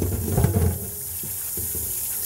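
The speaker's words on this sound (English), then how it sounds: "So we're gonna wash these greens" Collard greens being washed under a running kitchen faucet, with water splashing and rushing into the sink as the leaves are handled, steady and close, without talk.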